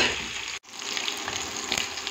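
Cauliflower frying in a pan gives a steady, close, loud sizzle that drops out for a split second and then resumes, with no voices.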